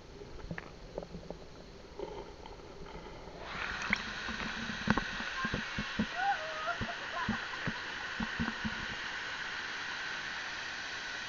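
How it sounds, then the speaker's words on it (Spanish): Waterfall roaring steadily at the foot of the falls in Azul Meambar, a broad continuous wash that thickens partway through, with people talking over it and occasional splashes close by. "Maravilla estar aquí al pie de la cascada."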